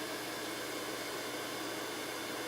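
A dryer blows on a paper envelope's seam with a continuous, even rush of airy noise that stays steady and close throughout, with no voices.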